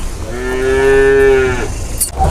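A super jumbo cow being loaded onto a truck bound for Yogyakarta lets out one long, loud, close moo lasting over a second, with no talk around it.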